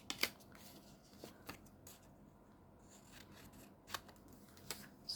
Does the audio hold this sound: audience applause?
no